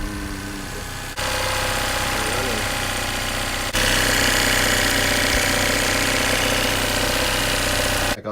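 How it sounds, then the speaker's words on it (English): A Tohatsu outboard motor runs steadily at idle, a loud close mechanical drone with knocking pulses that rises slightly in pitch and loudness partway through before cutting off at the end. "I got the motor started. As you saw, there's a little bit running there."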